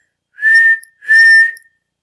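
A voice imitating a coach's whistle, two short bright tweets in quick succession, close and clear with silence around them.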